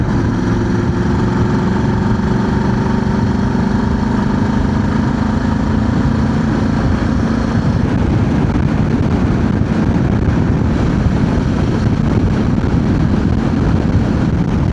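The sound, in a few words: strong wind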